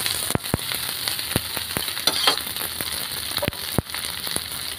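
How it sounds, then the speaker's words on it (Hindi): Cauliflower frying in a pan, with capsicum about to go in, gives a constant close crackling sizzle broken by sharp stirring clacks and scrapes of the spoon against the pan. "करीब दो मिनट हमने गोभी को फ्राई किया, उसके बाद शिमला मिर्च डाल देंगे।"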